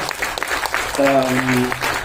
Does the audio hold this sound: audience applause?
yes